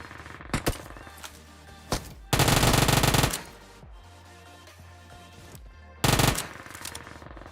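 Bursts of automatic gunfire in a video game battle, several loud sustained volleys separated by sparser single shots and quieter stretches, coming from all around.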